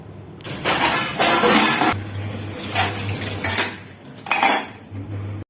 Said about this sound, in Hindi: और अब लास्ट में सिंक को मैंने अच्छे से साफ़ कर दिया।